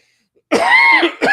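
A single loud, close cough with a rasping, drawn-out rattle, followed by a shorter second cough.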